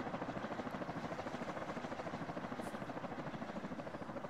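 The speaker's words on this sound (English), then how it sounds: "So the chopper's really low volume." Helicopter in the ARMA 3 video game flying with a steady, continuous rotor thrum and pulsing blade chop, heard at low volume throughout with no talk over it.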